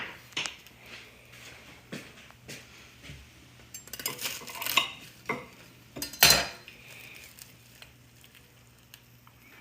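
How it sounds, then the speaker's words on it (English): A knife cuts into a smoked cheddar and BBQ chicken melt on a plate, with scattered clinks and scrapes of cutlery against the plate and a louder clatter near the end, close and fairly quiet. "let me get a knife to cut it open"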